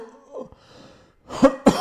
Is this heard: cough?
yes